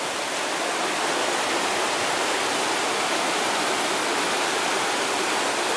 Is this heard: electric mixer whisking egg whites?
no